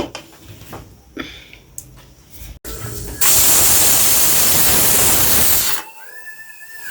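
A pressure cooker of lentils on the stove lets out a loud, steady hiss of escaping steam for a few seconds, preceded by quieter kitchen noises and followed by a brief tonal whistle.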